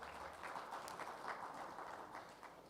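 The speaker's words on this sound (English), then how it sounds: "Maybe a brief round of applause, please, for our panelists today" Brief, fairly quiet audience applause for the panelists at a defence panel discussion, a short burst of scattered clapping in a conference room that holds steady for under three seconds.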